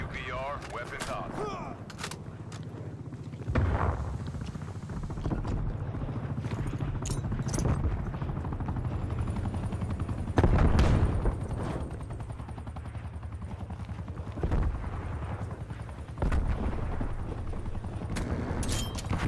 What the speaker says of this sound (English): Attack helicopter is ready to deploy.